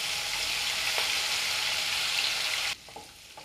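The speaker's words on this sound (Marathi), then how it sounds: "आलं लसणाची पेस्ट परतून घ्यायची" Ginger garlic paste sautéing in a pan, a close, loud steady sizzle that drops abruptly near the end, followed by a few faint stirring clicks.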